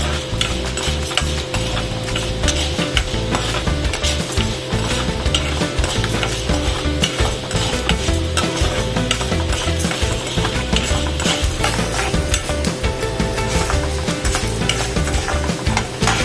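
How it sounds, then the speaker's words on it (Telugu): Mustard seeds splutter and crackle in hot oil while dosakaya (yellow cucumber) roti pachadi is being cooked, a dense, steady sizzle with stirring that runs loud and close throughout, with no talking. "చిట్టపట్ల ఆడుతున్నాయి ఆవాలు కూడా"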